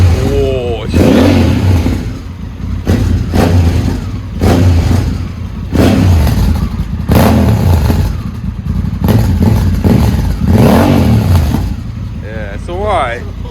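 Honda Africa Twin motorcycle fitted with a full aftermarket exhaust, baffle in place, revving in repeated loud blips that rise and fall, with people talking over and between the revs.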